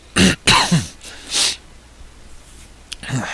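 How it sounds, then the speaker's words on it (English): Several short, harsh coughs in quick succession, close to the listener, followed by a quieter pause and one more brief cough. "I keep coughing, I'm sorry."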